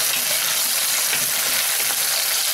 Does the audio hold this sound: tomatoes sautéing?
yes